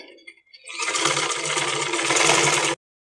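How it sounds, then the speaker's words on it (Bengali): Sewing machine stitching a seam on ladies' pant fabric, a fast continuous mechanical whir for about two seconds after a few faint clicks, close and alone, then stopping abruptly. "এরপর আমি মাঝখানে আমি একটা সেলাই দিয়ে নিব"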